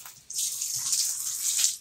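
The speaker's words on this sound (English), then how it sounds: "turn the sink on." Tap water gushes steadily into a bathroom sink, a bright continuous hiss and splash that starts abruptly and runs on at close range without pause.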